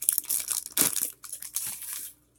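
A bag of nacho cheese Doritos crushed close up, giving loud, crackling crinkles in several bursts, the strongest near the first second, then tapering off into fainter rustles.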